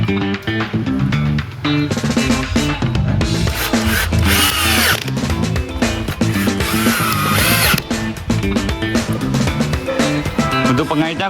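A power drill drives bolts into a wooden packing crate for a steel cabinet, whirring loudly in dense bursts beneath continuous Indonesian conversation.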